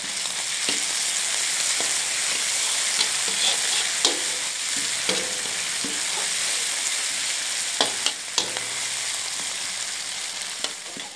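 Tomato is mashed and fried with curry leaves in a pan for a Malaysian Indian style tofu sambal, making a continuous loud sizzle broken by repeated spatula taps and scrapes.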